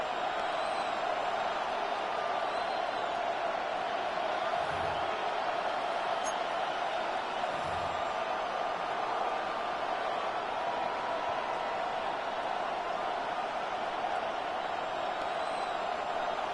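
A football stadium crowd roars before a third-down play, a dense, steady wash of cheering voices that stays loud and unbroken throughout.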